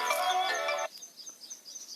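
A phone ringtone for an outgoing call plays as a bright, loud melodic tone for under a second, then cuts off, leaving faint outdoor chirping and hiss.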